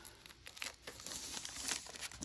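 Scissors cutting into the plastic packaging of a journal, faint crinkling and snipping with a few crisp cuts and rustles, close and quiet, with no voices.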